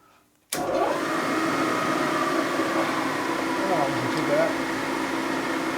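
A rebuilt four-speed transmission from a 1952 Harley-Davidson panhead runs in gear on the bench, a steady mechanical whir starting abruptly and holding at constant level throughout.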